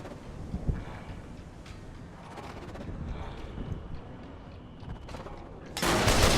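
Gunfire in Fallout New Vegas, played on hardcore mode: a few scattered muffled shots over rumbling noise, then a loud burst of sustained firing at the very end.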